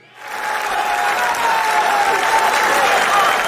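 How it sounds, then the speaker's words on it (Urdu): Loud, sustained audience applause at a 2022 Dubai mushaira poetry event as the poet Tehzeeb Hafi is welcomed, swelling in within the first moments and then holding as a dense, even clapping roar. "بھرپور تالیوں میں تشریف لاتے ہیں"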